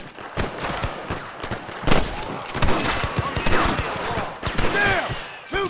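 Gunfire at rustlers in the Western video game Red Dead Redemption, a rapid exchange of loud close shots and echoing cracks in irregular bursts, with shouted voices in between.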